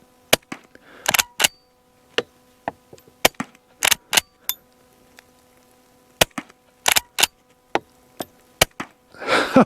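Colt Lightning small frame rifle fired repeatedly at a milk jug outdoors: a string of sharp, loud cracks spaced irregularly, some in quick pairs, with quiet gaps and a rustling burst at the end.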